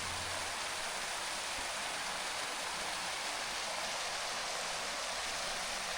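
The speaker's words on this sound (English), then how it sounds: "A waterfall in California." A small waterfall in the Southern California mountains roars as steady broadband rushing water, continuous and fairly close, with no voices.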